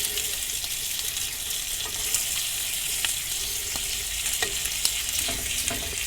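Food frying in butter in a pan, a steady close hiss of sizzling with scattered small pops and crackles throughout, no voices.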